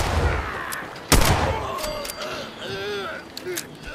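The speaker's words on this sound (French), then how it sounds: "J'entends encore les balles qui fusent." Gunfire with bullets whizzing past in the video game Fallout 76, a sharp loud shot standing out among scattered fire and whistling rounds while someone talks over it.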